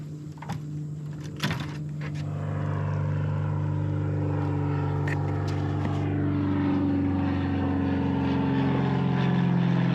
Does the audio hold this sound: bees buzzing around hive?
no